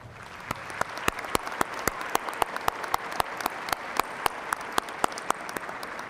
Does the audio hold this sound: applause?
yes